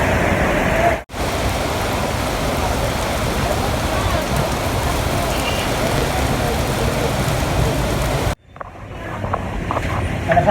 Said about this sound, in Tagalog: Lakas ang ulan, grabe.